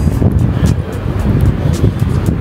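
Strong wind buffets the microphone on an open seafront baywalk in Zambales, a steady loud rumble with gusty swells throughout and no voices.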